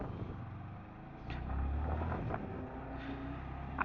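2023 Yamaha R15M 155cc sports motorcycle being ridden, its engine a steady droning hum buried under heavy wind buffeting on the microphone, with no speech.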